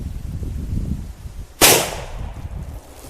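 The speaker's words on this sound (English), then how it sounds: "So now we are going to shoot through at home defense range roughly." A single sharp .45 Colt gunshot fired at close range into a bag of flour and water jugs, a loud crack with a bright ringing decay over a steady low background rumble.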